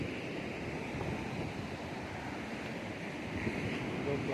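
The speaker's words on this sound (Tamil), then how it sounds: "சரியான அலை வந்து அலை உருவாகுது" Ocean surf washing steadily at Pattinambakkam beach, a continuous broad roar of breaking waves with wind noise buffeting the microphone throughout.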